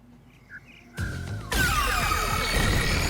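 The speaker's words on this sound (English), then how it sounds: "Oh, just destroyed a rock." A rock is smashed by a heart cannon blast in Rain Code: two sudden, loud bursts in quick succession, then a sustained crumbling roar with ringing, sweeping tones that stays strong to the end.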